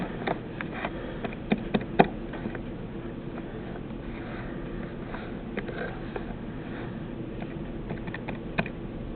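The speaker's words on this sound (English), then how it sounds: "I have to type it in this way." Numbers keyed into a calculator keypad: sparse, faint plastic taps spread irregularly over a quiet room hum, with a couple of slightly sharper presses near the start.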